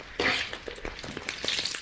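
Squid that has been fried crisp and golden in a wok crackles and sizzles close by, the hiss rising in patches against a busy, uneven pattern of pops. No one speaks.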